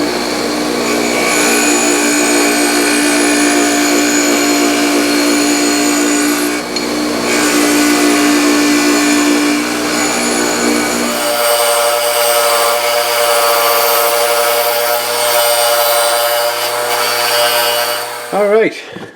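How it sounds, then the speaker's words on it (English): A bench grinder strips heavy grime from an old Billings wrench, giving a loud, steady motor whine with strong hum that shifts tone partway through as the load changes, then cuts off abruptly. "we'll start off with the bench grinder and take off some of the heavier stuff."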